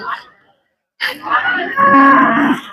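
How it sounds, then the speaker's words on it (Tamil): A Kangayam crossbred with native cattle lets out a drawn-out moo at the Siruvalur cattle market, starting after a brief pause in the clip. "நாட்டு மாடு பிளஸ் காங்கேயம் கிராஸ் பண்ணி வச்சிருக்காங்க"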